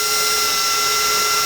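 A power drill bores small pilot holes for screws into a board while installing a top-fill rear gas tank on a 1963-72 Chevy or GMC truck, a loud steady high-pitched whine that runs nonstop and close.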